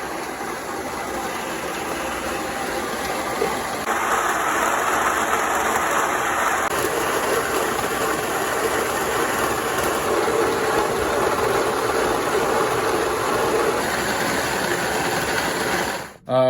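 A grain mill grinds rye berries mixed with winter wheat berries into flour. The motorized whirring and grinding is steady and close for about sixteen seconds, shifting in tone partway through, then cuts off abruptly.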